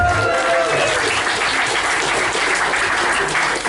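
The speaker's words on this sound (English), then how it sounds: "Give a round of applause for yourself." A crowd claps and cheers loudly and steadily throughout, a dense wash of applause that never lets up.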